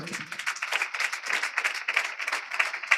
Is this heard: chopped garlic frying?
no